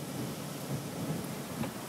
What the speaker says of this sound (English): A gust of wind.